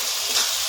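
Tomato paste frying in hot oil for a chicken curry, a steady, close hiss of sizzling with a faint stirring scrape, brief and uninterrupted.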